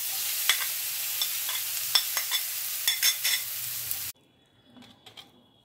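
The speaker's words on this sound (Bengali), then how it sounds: "আমি সেই পুরটা মিলিয়ে নিচ্ছি।" Fried prawns being stirred together with a pointed gourd stuffing, giving a bright pan sizzle broken by repeated scraping strokes, then the sizzle cuts off and a few soft, quieter stirs follow.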